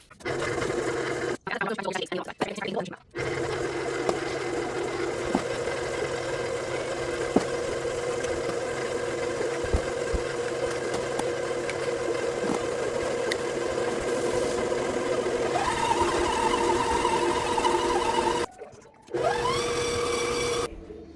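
An electric mixer beats cinnamon swirl bundt cake batter at medium speed with a steady, close motor whir. It runs almost nonstop for about twenty seconds, with two brief pauses.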